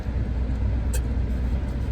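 Steady low rumble of a car in motion as heard from inside the cabin, constant and fairly loud, with a couple of faint high clicks and no speech.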